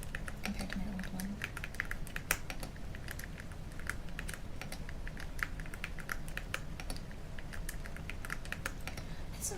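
Rapid, steady typing on a loud computer keyboard, dense clacking keystrokes close up for the whole stretch, with a soft room hum underneath and no talking.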